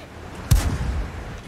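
A single loud tank gun shot in World of Tanks from the light wheeled EBR Hotchkiss firing on the move, a sharp blast followed by a short rumbling decay.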